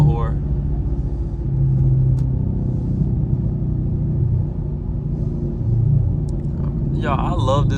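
A Chevrolet Camaro SS engine drones in a deep, steady rumble through a 60 mph roll, heard from inside the car, loud and constant, with a short voice near the end.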